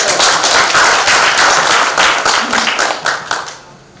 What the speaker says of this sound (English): Professor Tu, please stand up so we can give you applause.